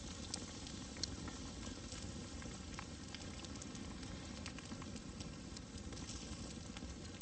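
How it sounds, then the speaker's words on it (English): A ribeye steak sizzles on a grill over an outdoor campfire at a desert camp, a soft, steady crackle and patter with occasional pops that holds at the same low level throughout, with no voices over it. "That ribeye is cooking nice and good on that grill right there."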